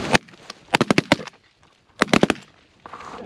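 Shotgun blasts during a North Dakota goose hunt fire in two rapid volleys, several sharp overlapping bangs per burst, loud and close outdoors.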